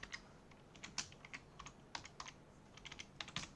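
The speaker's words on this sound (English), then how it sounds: "I'm typing. I've typed slower than Alex" Someone types on a computer keyboard, quiet irregular bursts of light key clicks at close range, with short pauses between runs of keystrokes.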